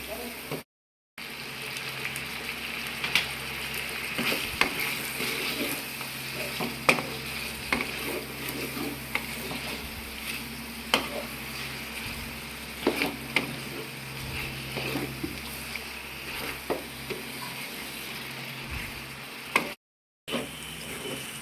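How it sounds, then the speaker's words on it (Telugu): Chicken fries in hot oil with chili powder in a pan, giving a steady close sizzle with frequent stirring scrapes and spoon clicks throughout, briefly cutting out twice. "ఇట్లా మంచిగా ఆయిల్లో ఫ్రై చేసుకోవాలి చికెన్ అనేది"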